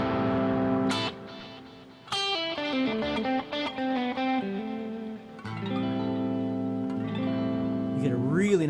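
An electric guitar plays minor pentatonic blues licks with delay and reverb, sustained notes ringing and echoing into one another, close and clear with no talking.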